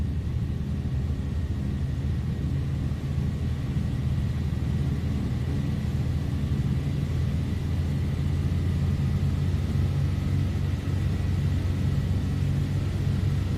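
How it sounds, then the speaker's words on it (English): A Douglas DC-3's radial engines in the Microsoft Flight Simulator 2020 game drone steadily as the props come up, a loud, continuous low rumble with a throbbing tone that holds throughout. "I love that sound. Just love that sound, that radial engine sound."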